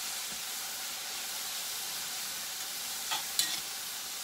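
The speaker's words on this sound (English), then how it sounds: "And I'm going to give this one more quick stir." Steak and vegetables sizzling in a pan with a steady bright hiss, faint and continuous, with a couple of brief stirring scrapes near the end.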